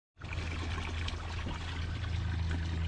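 Clear spring water flows in a steady, full rush that starts abruptly and holds even and close throughout, with no voices.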